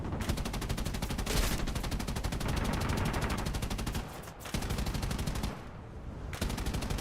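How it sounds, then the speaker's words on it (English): A Dauntless dive bomber fires its guns in an aircraft combat game, loud rapid-fire bursts rattling almost continuously with a few brief pauses between strings of shots. "It's a dauntless trying to shoot me down."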